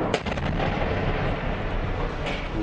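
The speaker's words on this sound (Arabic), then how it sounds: "تدور الرحى المعارك في مدينة حلب التي لا يسمع فيها صوت أعلى من صوت القذائف" Shelling and gunfire in the Syrian city of Aleppo during fighting, a dense continuous rumble of distant blasts and shots with a sharper report near the start, no voices.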